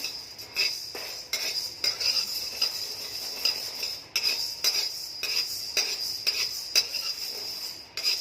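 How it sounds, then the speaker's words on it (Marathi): Wheat grains dry roast in a pan while a metal spatula stirs them, giving a continuous close rattle and scraping with regular clinks of utensil against the pan throughout, and no voices. "गहू पण मी आता चांगले भाजून घेत आहे"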